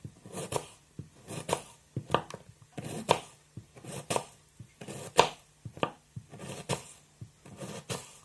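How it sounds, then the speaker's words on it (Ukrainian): A knife chops onion into small pieces on a board in a home kitchen while cooking a salad, with steady rhythmic blade strikes coming in quick close bursts. "Нарізаю я її просто на маленькі шматочечки"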